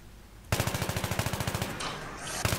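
Rapid automatic AK rifle fire in an online shooter game, a close, loud burst of evenly spaced shots lasting over a second, then a brief pause and another shot.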